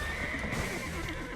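A horse in the online game Black Desert Online gives a loud, close whinny over the clatter of its hooves, a dense continuous sound with no speech.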